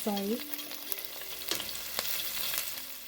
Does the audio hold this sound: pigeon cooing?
no